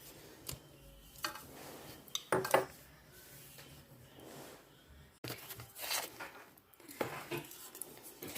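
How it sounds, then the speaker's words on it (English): Buttermilk bath mix spooned into a jar: soft scraping and tapping of a spoon against the container, several irregular clinks and rustles at close range, fairly quiet. "see how easy it is to just spoon it in"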